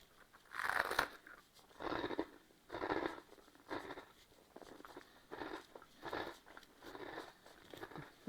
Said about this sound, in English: Stand by for the crunch.